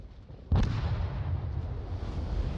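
Secondary gun fire from the German battleship Kurfürst in World of Warships, a single heavy boom followed by a sustained low rumble of distant battle.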